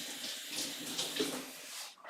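Tap water pours over a bunch of dirty celery being rinsed at a sink, a close, steady splashing rush that shifts as the stalks move under the stream, then cuts off at the end.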